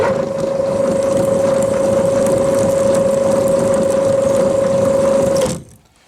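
A homemade machine running in reverse while a die cuts thread on a bolt, a steady motor whine with a constant tone and grinding underneath for about five seconds, then it stops abruptly.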